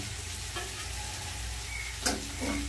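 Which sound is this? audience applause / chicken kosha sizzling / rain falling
chicken kosha sizzling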